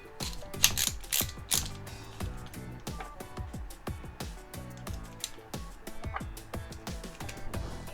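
A 1/4 inch ratchet driver working on a portable car tire air compressor, heard up close as rapid clicking pawl ratchet strokes in uneven bursts, with no voices.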